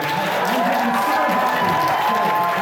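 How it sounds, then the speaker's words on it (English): Convention audience at an anime-themed Who Wants to Be a Millionaire game show claps and cheers in a steady, dense wash, with crowd murmur and a tonal hum underneath throughout. "Let's give a round of applause."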